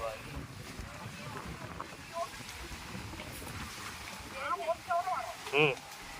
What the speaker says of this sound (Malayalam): ആ ബോട്ട് പോയതിൻ്റെ ഓളമാണ്